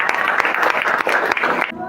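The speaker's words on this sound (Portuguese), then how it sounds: "Uma salva de palmas a todos os formandos." Applause for graduates at a theological course graduation ceremony in Campina Grande, Brazil. Dense clapping from an audience fills the room close by and stops abruptly near the end, with a voice over it.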